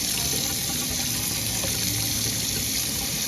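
Running water pours steadily over California fan palm (Washingtonia filifera) seeds being rinsed in a strainer, a close, continuous gushing rush like a tap into a sink with no pauses.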